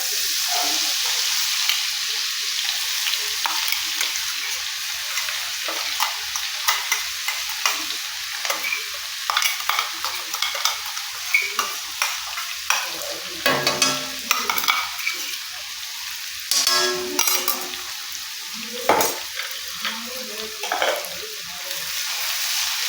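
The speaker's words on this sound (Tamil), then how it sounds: "இப்போது நம்ம எடுத்து வச்சுக்கிறது இங்கே பாருங்கள் லைட்டாக பொரிய ஆரம்பிச்சிருச்சு" Indian gooseberry, curry leaves and betel leaves fry in oil in a wide iron kadai. A steady sizzle runs under scraping stirs and occasional clinks of the spoon against the pan, close and loud with no talking.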